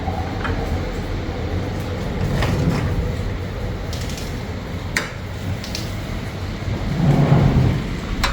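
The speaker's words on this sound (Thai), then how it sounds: "วันนี้ที่บ้านของเรา ฝนตกค่ะพี่น้อง FC" Steady rain falls outside a home in a sustained wash, with rolls of thunder and a few sharper cracks breaking through, one deeper rumble swelling near the end.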